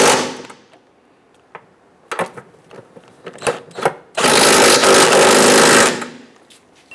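Power tool fastening transmission mount nuts under a 2011-2021 Jeep Grand Cherokee 3.6L V6: short bursts of ratcheting and rattling, then a long loud buzzing run of about two seconds, close up.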